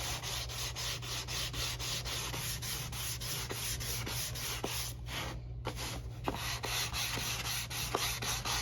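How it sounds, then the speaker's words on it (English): A foam sanding block rubs rhythmically along a wooden guitar back brace, up close, with a brief pause partway through before the even back-and-forth strokes resume. "Just smoothing that up."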